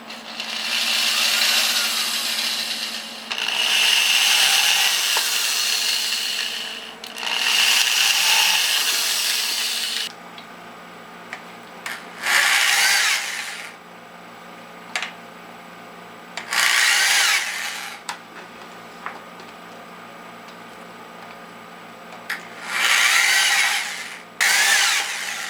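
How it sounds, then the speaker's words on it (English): A power drill drives screws into a mountain bike tire, whirring in several long bursts, then in shorter, spaced spurts with quiet gaps between them, close by and fairly loud. "Just take your drill and drill it."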